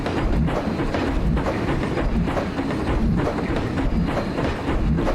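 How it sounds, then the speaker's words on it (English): A loud, steady train rumble with rapid clattering wheels from a dark-ride train in Planet Coaster, continuous and close, filling the whole stretch without pause. "The train's so loud, I gotta turn the volume down just for a bit."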